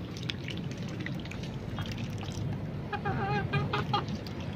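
A white rooster clucks in short repeated calls near the end, over a steady background of dripping and splashing water from bathing ducks.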